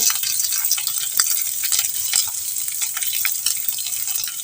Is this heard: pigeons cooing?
no